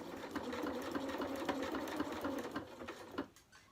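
A sewing machine stitches a zigzag seam on triangle bunting fabric, running as a steady close mechanical whirr with a rapid repeating needle clatter, then slowing and stopping near the end.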